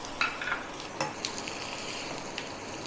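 A spoon stirs eggplant dry fish curry with potato and green chili in a pan, giving a few soft scraping clicks over a faint, steady sizzle.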